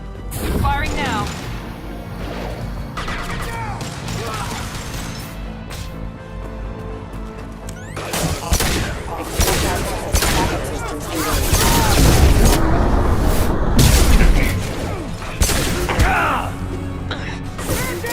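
Gunfire in the Mass Effect 2 video game: loud, repeated blasts and crashing impacts in clustered bursts, growing denser and heavier toward the end amid other combat noise.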